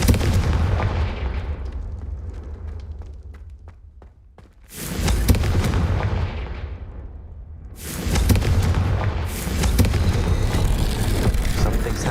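Confringo fire spell blasts in the video game Hogwarts Legacy, two loud broadband explosive bursts, each trailing off into a rumbling decay, the second blast sustained longer, heard close with no talking.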